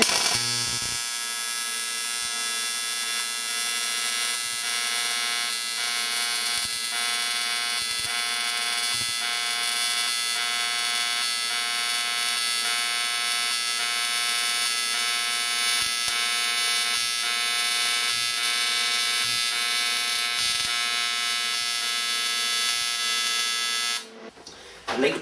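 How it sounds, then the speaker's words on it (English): Pulsed AC/DC TIG welding with an R-Tech inverter welder at about 65 amps, a steady electric buzz and hum with regular faint pulses that runs on alone until it stops abruptly near the end. "I'm going to try the same weld, but this time with a pulse."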